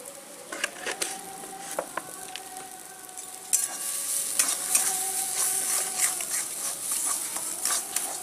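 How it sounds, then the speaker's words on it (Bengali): A green pea mixture seasoned with salt and sugar fries in a pan, with a continuous close sizzle and sharp scraping clicks from a spoon stirring it, the frying growing louder toward the end. "এটাকে আমরা ভালো করে মিশিয়ে ভেজে নেব"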